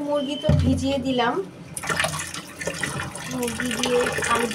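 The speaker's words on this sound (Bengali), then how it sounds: "তো এই তো মুরগি তো ভিজিয়ে দিলাম" Water poured over raw chicken in a Bangladeshi home kitchen to soak it, a running, splashing flow that comes and goes close by while someone talks over it.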